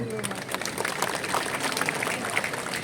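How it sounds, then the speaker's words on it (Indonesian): Crowd applause at the opening ceremony of the Bali Arts Festival, honouring Indonesia's deputy minister of tourism. Dense, steady clapping from a large audience runs throughout with no break, and a voice is faintly audible beneath it. "tepuk tangan untuk beliau"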